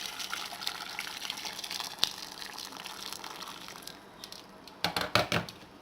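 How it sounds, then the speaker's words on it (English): Hot water poured into a pan of chopped butternut squash in a home kitchen, a steady splashing gush that fades out, followed by a few sharp knocks and clatters near the end. "now I'm gonna add the hot water"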